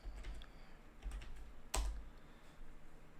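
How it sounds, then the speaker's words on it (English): Quiet keyboard typing in short bursts of clicks, with one sharper, louder keystroke midway, in an otherwise calm room. "What was I just typing in?"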